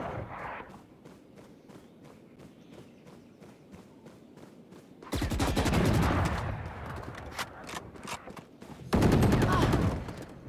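Gunfire in Valorant: a few sharp shots over a faint ticking backdrop, then two loud bursts of rapid automatic fire in the latter half, close and dense.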